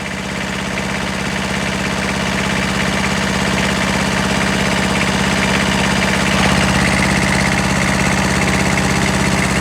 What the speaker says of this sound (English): You hear it kind of load up just a little bit and the pressure go through there.